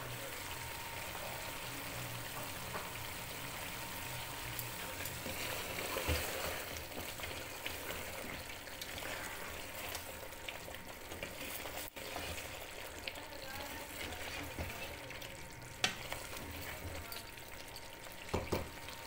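Diced potatoes frying in a pot for a desi chicken curry, a steady broadband sizzle that runs continuously with faint stirring and occasional clinks, moderately loud and close, with no talk over it.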